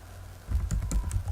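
A computer keyboard clicks as a website address is typed, a brief quick run of close keystrokes over a faint steady hum, with no speech.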